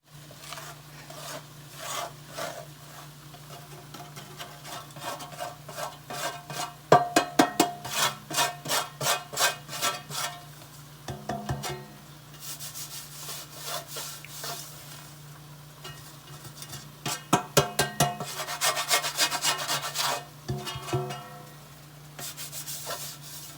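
A spoon stirs prepared spice mix into a pan of gunda vegetable curry, giving rhythmic scraping and rubbing strokes in quick bursts, with pauses between rounds of mixing and no voices.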